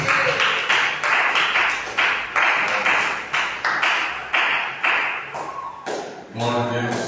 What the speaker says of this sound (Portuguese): Receba do nosso pastor com as palmas para o Senhor Jesus.